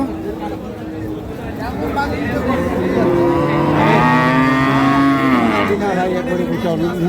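Several dairy cows moo loudly and at length, overlapping one another, amid a crowded background of human chatter and general noise at the Ambari cattle market.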